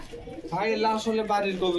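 Pigeons cooing in a pigeon loft at a market stall selling racing pigeons, heard as a short, close, throaty coo.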